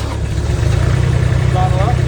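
Vermeer S925TX and S600TX compact tool carriers idle with a steady, loud low rumble, engines running close by as a voice speaks over them.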